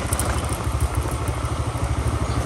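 Motorbike ridden off-road on a rough track, a close, loud, steady engine putter with a rhythmic low thumping and occasional clatter, continuous throughout and without talk.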